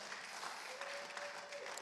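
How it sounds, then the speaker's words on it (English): Quiet, steady applause from a church congregation during a sermon, a faint, continuous patter of many hands heard at a distance with no voices. "Somebody clapped."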